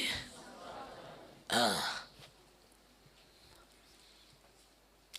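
A single loud, harsh cough bursts out nearby during a church sermon, after a stretch of faint murmuring, followed by quiet room tone.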